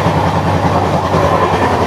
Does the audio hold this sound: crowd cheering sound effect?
no